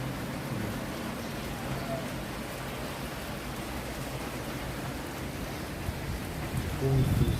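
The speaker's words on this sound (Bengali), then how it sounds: "প্রায় 5-6 ঘন্টা যাবৎ অনবরত বৃষ্টি হচ্ছে।" Continuous heavy rain falls during a cyclone over Dhaka, a steady even hiss of downpour that fills the whole stretch, with a slightly louder gust of rainfall near the end.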